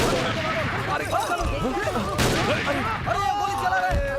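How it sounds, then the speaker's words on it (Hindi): Gunfire in a dramatic action scene: a chaotic burst of shots and booms mixed with overlapping shouting voices, loud and continuous throughout. "गोली चला रहे हैं।"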